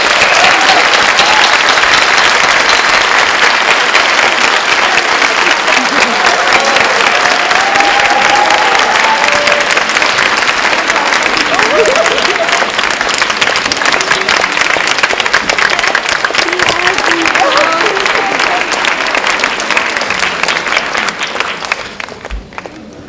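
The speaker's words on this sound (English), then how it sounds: "let's have a round of applause and welcome Margaret Atwood and Patrick French" A large audience applauds steadily at an evening literary talk in a hall at the India Habitat Centre, welcoming Margaret Atwood and Patrick French; the dense clapping stays loud throughout and tapers off at the very end.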